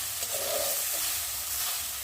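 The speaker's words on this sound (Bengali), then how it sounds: "চলো সয়াবিনটাকে ভালো করে ভেজে নিই।" Soybean chunks fry in hot oil in a kadai with a steady, close, broadband sizzle and hiss that runs unbroken throughout, with no voices.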